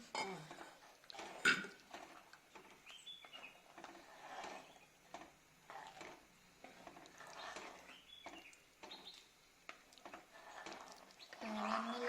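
Spoon scraping and clinking against a pot while stirring pineapple sago payasam, irregular soft knocks and scrapes, fairly quiet and close, with brief faint voices.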